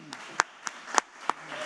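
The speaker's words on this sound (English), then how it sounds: "a very well-deserved applause" A handful of sparse, separate handclaps from a keynote audience, about five or six sharp claps spread unevenly over a second and a half, fairly close, in a quiet hall.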